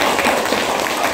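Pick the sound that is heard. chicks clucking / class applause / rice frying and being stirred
class applause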